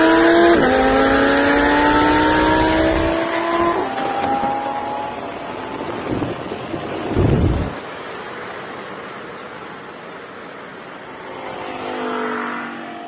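A stock Audi R8 races an Audi RS3, with loud engines revving and accelerating hard, then fading as the cars pull away into the distance.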